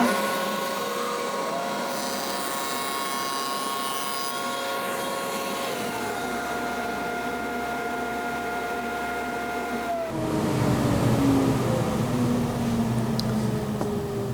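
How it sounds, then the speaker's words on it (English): Dado blade stack on a table saw cross-cutting cabinet-grade plywood, a steady loud whine with shifting tones that drops in pitch near the middle and then roughens as the cut goes on, with no talk. "Okay, we've got the dado set installed on the saw. We'll take a look how it cuts."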